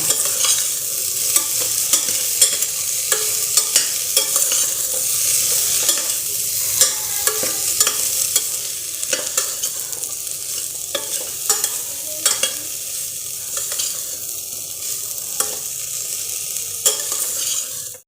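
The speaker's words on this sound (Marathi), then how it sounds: "याला परतून घेऊया त्या भाज्यांना" Winter vegetables stir-fried in a pan, with a steady close sizzle and repeated scraping strokes of a spoon at a fairly even rhythm throughout, with no speech.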